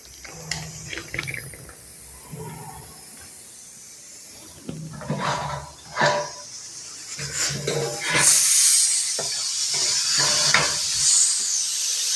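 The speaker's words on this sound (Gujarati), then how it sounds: "તમે જોઈ શકો છો કે અહીંયા કોઈ પણ ચૂલો ન હોવા છતાં કુકરમાં સીટી વાગી રહી છે" A pressure cooker chilled with liquid nitrogen, with no stove beneath it, gives scattered clicks and short bursts before breaking into a loud, sustained hiss that fills the second half.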